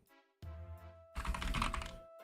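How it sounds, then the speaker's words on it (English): A computer keyboard is mashed in a dense, rapid burst of clattering keystrokes. It follows a quieter stretch with a steady electronic tone beneath, then ends abruptly. "Every time that I like mash on my keyboard, I hear it."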